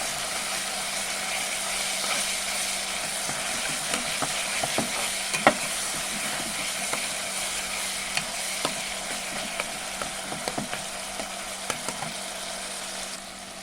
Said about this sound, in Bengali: আমার পেঁয়াজটা আর টমেটোটা একটু ভাজা ভাজা হোক